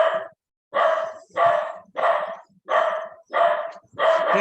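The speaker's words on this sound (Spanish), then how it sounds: "este perrito siempre hace bulla" A small dog barks loudly and repeatedly near a home where a lesson is being taught, seven evenly spaced, sharp barks in a steady rhythm with brief silences between them.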